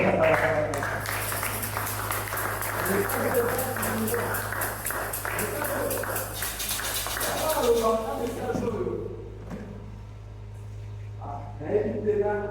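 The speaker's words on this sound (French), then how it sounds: "Applaudissez le Seigneur." A church congregation applauds in a dense, sustained burst of clapping, loud and close, fading out after about nine seconds to a quieter room with a few scattered sounds.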